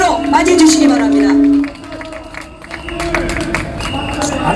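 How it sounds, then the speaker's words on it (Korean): A crowd at an outdoor protest rally breaks into scattered clapping and cheering after a voice on a loudspeaker finishes speaking, the applause swelling again toward the end. "여러분 큰 박수로 맞이해주시기 바랍니다"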